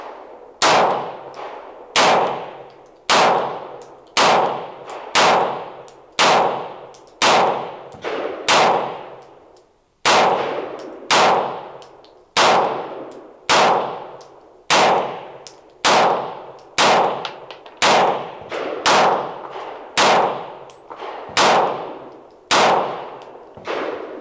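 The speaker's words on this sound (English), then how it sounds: "first time I've shot it with the Staccato mag, so let's see how it runs with that" Rapid pistol shots from a Springfield Prodigy fed by a Staccato 20-round magazine, about twenty close, loud reports in a steady quick cadence with a short pause near the middle, with no talking.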